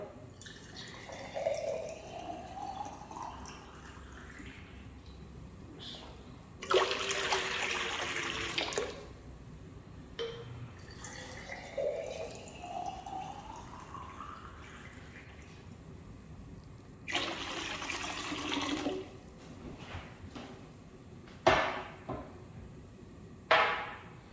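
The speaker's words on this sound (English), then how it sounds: "Add 3 glasses of water." Water is poured into a cooking pot for boiling lentils, two separate loud gushing pours several seconds apart, with quieter drips, clinks and kitchen handling in between.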